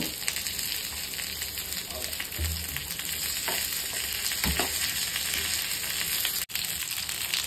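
Red snapper fish frying in oil in a pan over a low flame gives a steady, continuous sizzle that fills the whole stretch, with a few soft clinks and one brief drop-out near the end.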